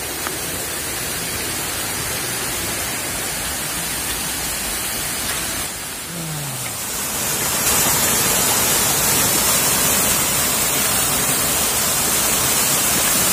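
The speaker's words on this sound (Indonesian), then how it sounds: "Enggak tahu ini ada di air terjun yang keberapa." The waterfall at Pincuran Tujuah roars as a loud, steady broadband rush of falling water close by. The noise swells briefly louder partway through and then holds constant.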